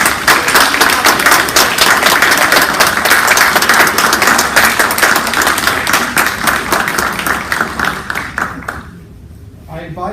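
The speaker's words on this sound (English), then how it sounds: "let's give our honorees one more round of applause" Audience at a college-wide meeting applauds its honorees, a dense steady wash of many hands clapping that carries on for several seconds before dropping away near the end.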